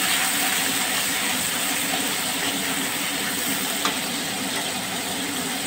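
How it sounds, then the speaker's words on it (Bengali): Masala paste for egg curry sizzles and fries steadily in a hot pan while being stirred, a continuous bright hiss close up with a faint scrape of the spoon. "মশলা পেস্টটা দিয়ে আমি নাড়তে থাকলাম।"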